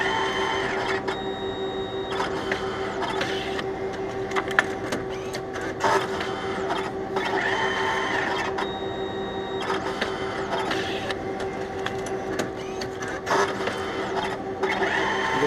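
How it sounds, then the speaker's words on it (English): A photo booth printer steadily feeds paper through, a continuous whirring, clicking mechanical drone with small periodic ticks, close and even throughout. "Shut your door and the printer will automatically feed it through."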